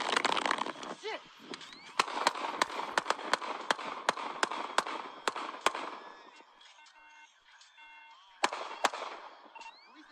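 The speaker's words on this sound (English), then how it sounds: "Police actually shooting." Police gunshots fired at an outdoor scene: a series of sharp, loud cracks spaced irregularly over about ten seconds, some in quick succession, amid shouting voices and background commotion.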